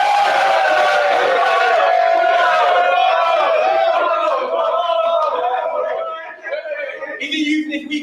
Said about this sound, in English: give us a cheer for Marlon.